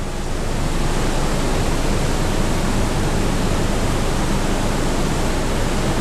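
Water pours steadily at a hot spring pool, a dense, even rush of broadband noise like a nearby cascade, loud and unbroken throughout with no voices.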